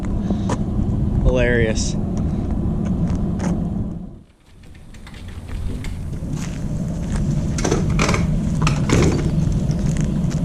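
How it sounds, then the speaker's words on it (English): Vehicle towing a full-size race trailer rolling up nearby, a steady engine and road rumble with wind buffeting, briefly dipping before swelling back, while people talk over it. "This dude rolling up in a full-blown race trailer."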